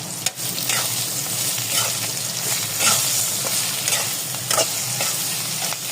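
Green chillies with fennel seeds and amchur powder stirred in a hot pan for achari hari mirch, a loud continuous sizzle with repeated scraping strokes of a spoon, and no voices.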